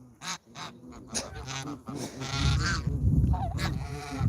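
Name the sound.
goose honking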